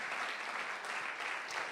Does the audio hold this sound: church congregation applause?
yes